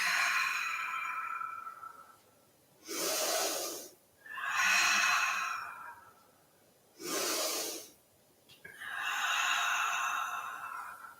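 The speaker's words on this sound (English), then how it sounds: "Exhale, squeeze the air out, find a fold." Slow, deep breaths during a yoga forward fold, alternating long airy exhales and inhales in a steady rhythm, close and clear against a quiet room.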